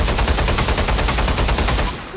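Rapid automatic gunfire in Pavlov VR on PSVR2, one weapon fired with one hand. Loud, evenly spaced bursts run for about two seconds, then stop abruptly.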